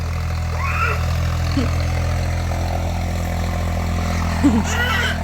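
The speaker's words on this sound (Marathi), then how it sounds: "थांबा तिकडे ट्रॅक्टर चालू आहे ना" A tractor engine idles steadily with a low, droning hum throughout, while faint voices come and go over it.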